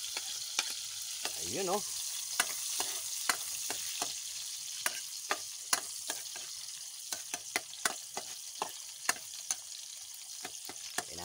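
Garlic sautéing in a pan: a steady fine sizzle with frequent sharp spatula scrapes and taps against the pan, and a brief spoken exclamation early on.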